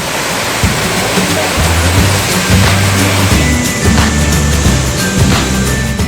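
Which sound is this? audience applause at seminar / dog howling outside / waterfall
waterfall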